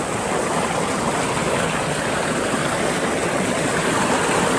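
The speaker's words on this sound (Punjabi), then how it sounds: "ਚੱਲਦਾ ਪਾਣੀ ਆਲੂਆਂ ਦੇ ਬਰਸੀਨ ਛੱਡਿਆ ਪਾਣੀ" Irrigation water rushes steadily from a channel into potato and berseem fields on a Punjab farm, a loud, constant gushing wash with no pauses.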